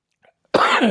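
After a brief near-silence, a single harsh cough bursts out close up, trailing into a rough throat-clearing sound.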